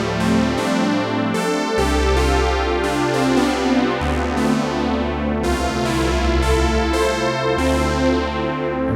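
Arturia MiniFreak synthesizer playing a lush Oberheim-style patch through only its built-in chorus, with no external effects: rich, bright sustained chords with a moving bass line, loud and continuous.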